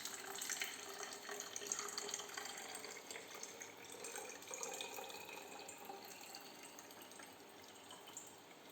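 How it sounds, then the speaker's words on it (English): Water trickles gently from a glass into a bottle during a children's Montessori pouring activity, a faint, close, continuous splashing stream that wavers slightly and tapers off toward the end, with no talking. "So now we are going to transfer the water from this glass to the bottle."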